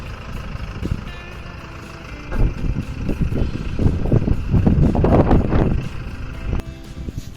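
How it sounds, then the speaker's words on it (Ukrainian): A truck carrying a combine harvester drives off to a customer, its engine rumble swelling as it pulls away, with wind buffeting the microphone. "машинка поїхала"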